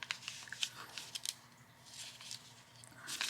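Scissors snipping paper while making an idea book: a string of quiet, crisp cuts and small rustles close by, with no voices.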